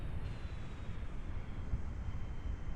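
Aircraft engine in Kerbal Space Program, a broad steady rumbling roar with wind-like noise, loud and continuous throughout with no voices.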